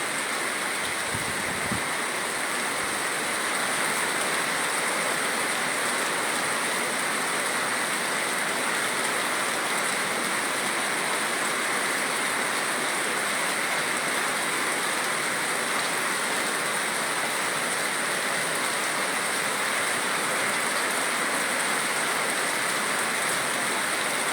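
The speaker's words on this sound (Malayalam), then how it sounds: "മഴയുടെ ഒപ്പം കാറ്റും അടിക്കുന്നുണ്ട്" Heavy rain pours steadily at Amaravila near Neyyattinkara, Thiruvananthapuram, with strong wind, a dense, loud, unbroken hiss lasting throughout.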